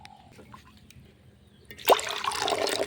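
Water is poured from measure into a kadhai for steamed puli pitha dough, starting as a sudden splashing rush after a quiet pause and continuing as a steady nearby pour.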